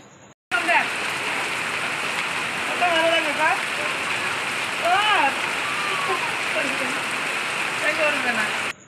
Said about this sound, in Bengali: এত পরিমাণে বৃষ্টি হচ্ছে, তো বৃষ্টিতে ভিজতে এলাম।